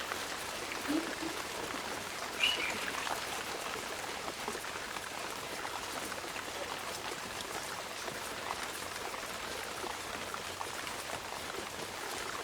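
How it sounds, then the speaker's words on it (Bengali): Steady rain falls on a monsoon day, a continuous, even hiss of drops at moderate level with no distinct individual patters. "বৃষ্টি হচ্ছে"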